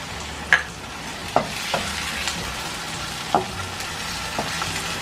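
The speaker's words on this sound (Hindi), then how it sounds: "ये हमारा मसाला अच्छी तरह भून गया।" Masala of tomatoes, green chillies and biryani spice frying in a pan for chicken tikka biryani, with a steady sizzle broken by several sharp scraping stirs of a spoon, close and alone.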